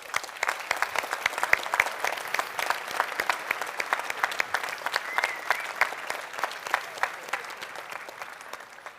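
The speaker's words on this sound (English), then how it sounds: "let's give ourselves a big hand, an applause for being here" A lecture audience of students applauds steadily at a university talk, dense overlapping claps sustained throughout at moderate distance with no talking.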